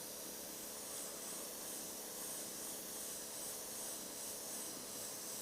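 Airbrush spraying paint for a monochrome portrait, a steady airy hiss holding at even strength for several seconds with no pauses or voices.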